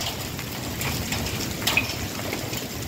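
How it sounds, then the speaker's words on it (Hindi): Hailstones fall steadily in a dense, even patter outdoors in Bathi Qaisrani during an unseasonal storm, a continuous rattling wash with no talking. "अभी तक ये ओले थमने का नाम नहीं ले रहे"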